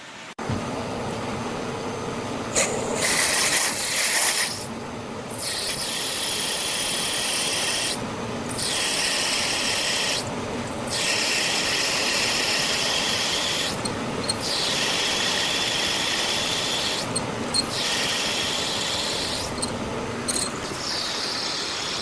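Repeated metal drilling and tapping on a Craftsman Atlas lathe, a harsh grinding rasp running almost continuously with brief pauses every couple of seconds, no talking.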